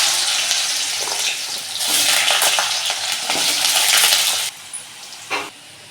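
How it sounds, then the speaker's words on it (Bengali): Potatoes drop into hot oil with whole cumin and bay leaf and set off a loud, close sizzle, with stirring and clinks of a utensil that settle into a quieter fry at the end. "গোটা জিরে ফোড়নে দিয়ে দিলাম, তেজপাতা দিয়ে দিলাম, রাখা আলুগুলো দিয়ে দিচ্ছি"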